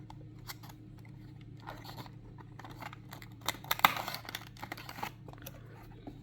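Unboxing a Mini GT Lamborghini Huracan STO model car: close, faint crinkles, taps and scraping of packaging and plastic, with a sharper snap or click midway, all over a low steady hum.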